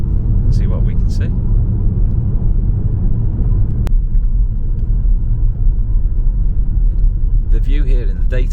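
A car driving through a forest at night, a steady, loud, low rumble of engine and road noise from inside the vehicle, with short bursts of voices at the start and near the end.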